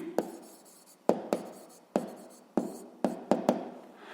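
Numbers being written by hand in a sixth-grade maths exercise: a series of about nine sharp pen or chalk taps and short scratching strokes at an uneven pace, close and fairly quiet, with no talk.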